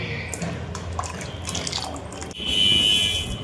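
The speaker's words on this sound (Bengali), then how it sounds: "এখন দিয়ে দেবো উষ্ণ গরম দুধে গুলে রাখা আমুল দুধ" Dissolved Amul milk is poured into a pot of hot, thickened milk, giving a soft liquid splashing that swells toward the end; faint kitchen sounds around it and no clear speech.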